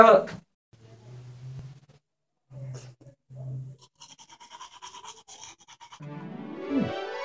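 Teeth brushed with a toothbrush in a French toothpaste commercial, the scrubbing coming in a busy midsection between low humming tones and voices talking.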